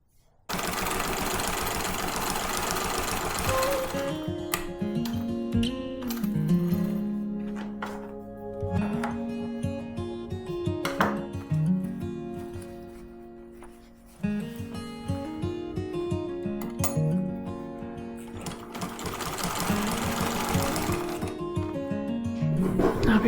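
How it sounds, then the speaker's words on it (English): Sewing machine stitching the seam of a tote bag, motor whirring in several runs of stitching separated by short pauses, close and moderately loud, with no talking. "stitch these lines on the sewing machine, but only stitch one single stitch and don't backstitch"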